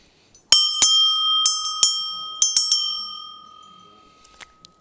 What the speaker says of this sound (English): I'd love for you to show her and ring the bell a little bit.